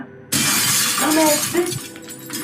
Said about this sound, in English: I heard the sound of glass breaking